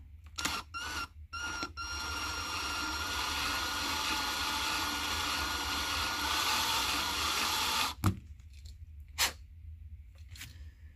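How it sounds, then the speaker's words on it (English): A small drill bit, 9/64 inch, boring out the rivet post of a die-cast Hot Wheels 1969 Mercury Cyclone, a steady close whirring grind lasting several seconds, bracketed by brief clicks and taps before and after. "So to drill out the post, the first drill bit I'm using is a 9/64"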